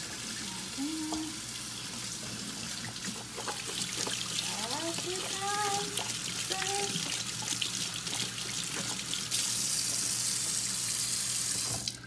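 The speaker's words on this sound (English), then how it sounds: "Washing these real quick." Kitchen tap runs steadily into a sink while dishes used for making potato skins are rinsed, a continuous close hiss of water with a voice and faint tonal chatter partway through.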